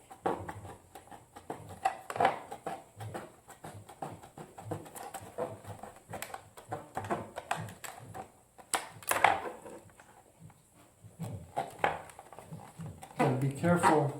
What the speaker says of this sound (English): I'm going to go ahead and trim these real quick and see if it's better, fits better